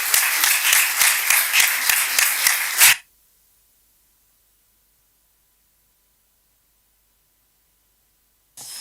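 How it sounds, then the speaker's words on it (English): An audience at a panel session on Europe applauds in loud, rhythmic, close clapping for about three seconds before it cuts abruptly to silence. "Let's have a big applause to Commissioner Breton"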